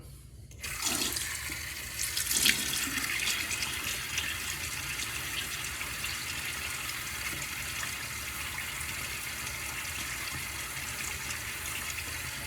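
A tap runs steadily into a sink to wet a face before shaving, a continuous close rush of water that starts after a second and carries on evenly, with a brief splash early on.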